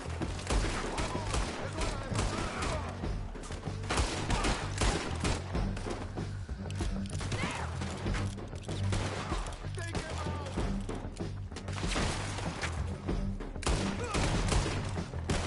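Rapid, sustained gunfire from the Red Dead Redemption 2 prologue, with dense overlapping shots and thuds rattling on without pause, while voices shout and talk throughout.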